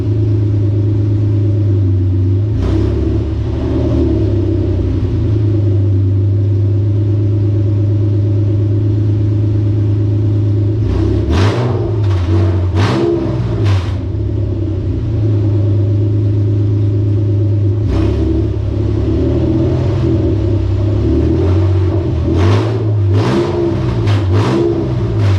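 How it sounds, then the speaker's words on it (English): Nissan 350Z engine running steadily at a low drone while shifted through the gears, with sharp clicks and clunks recurring in clusters over the rumble and no talk. "we're gonna go through the gears real quick and check and make sure everything's working"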